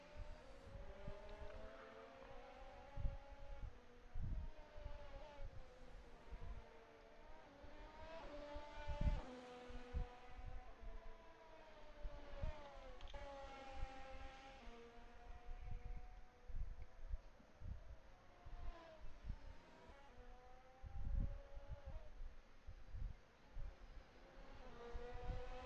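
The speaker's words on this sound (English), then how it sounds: "we're just listening to this car coming out here" A race car in a racing video game at Silverstone drives past with a sustained engine roar and rising and falling gear pitch, loud and steady throughout with no talk.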